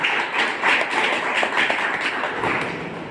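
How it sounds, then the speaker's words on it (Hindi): A live audience at a network marketing seminar breaks into steady applause, dense overlapping claps sustained at an even level throughout, with no talking over it. "एक जोरदार ताली होनी चाहिए इसके साथ।"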